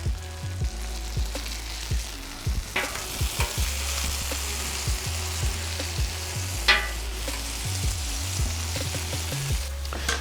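A sesame seed bun crisps on a hot grill, a steady sizzle and crackle close up with occasional scraping and clinking of a utensil, no voices.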